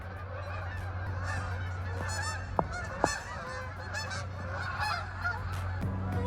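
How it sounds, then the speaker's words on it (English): A flock of geese honks repeatedly at a moderate distance in Canada, calls overlapping over a low steady hum of background noise. "if you're wondering what the noise is, those are birds"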